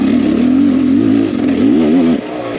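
A Beta Xtrainer 300 two-stroke dirt bike engine while riding a wooded trail at Wolfs Ridge, loud and close, its pitch wavering up and down with throttle changes before dropping off abruptly near the end.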